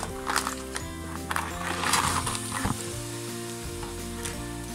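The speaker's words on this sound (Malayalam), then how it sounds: "ക്രാബ് ഇട്ട് കൊടുത്ത് നന്നായിട്ട് മിക്സ് ചെയ്യാം." Crab frying in a pan while being mixed with masala, a lively sizzle with clattering scrapes and knocks of the spoon against shells and pan, close and fairly loud under background music.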